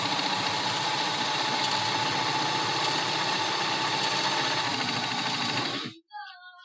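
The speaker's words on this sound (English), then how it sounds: "we're going to just sew a straight stitch across on both of these all the way across the top long ways." A sewing machine running a straight stitch across a fabric mask, a steady loud mechanical whir with rapid needle rhythm that stops abruptly near the end, followed by a brief faint sound.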